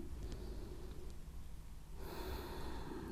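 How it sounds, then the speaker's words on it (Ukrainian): A slow inhale during a diaphragm and pelvic-floor breathing exercise: a soft, steady airy rush that grows brighter and fuller about two thirds of the way through, close and alone with no talking. "Знову вдих"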